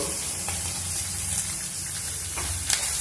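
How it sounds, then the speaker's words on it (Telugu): Fenugreek seeds and curry leaves fry in hot oil, giving a steady, close sizzle that runs throughout with a few sharper crackles near the end. "కరివేపాకుని కూడా కొంచెం వేయించుకున్నాము"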